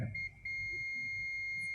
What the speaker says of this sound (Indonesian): Kita gunakan mode buzzer